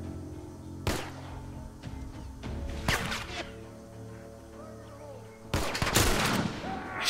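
Gunshots in The Last of Us: three loud, sharp reports spaced a couple of seconds apart, each cracking out over a low, steady game ambience.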